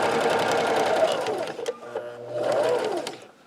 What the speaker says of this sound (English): we're going to go all the way to the end and back stitch